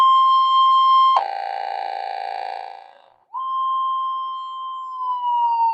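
A Minelab SD2100 metal detector on a cancel coil powers up with a steady electronic tone, then a buzzy, harsh drone. It cuts out briefly and returns as a clean, sustained whistle that wavers slightly at the end, close and alone.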